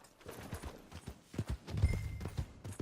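Horse hooves clip-clop at a steady walking pace, close by, with a faint whinny partway through, in the video game Red Dead Redemption 2.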